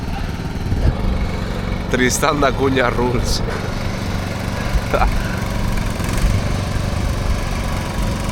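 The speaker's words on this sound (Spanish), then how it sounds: "intentar arrastrar la barca con un cortacésped" A lawn mower engine drones steadily while dragging a boat on Tristan da Cunha, loud and continuous with a brief voice speaking over it.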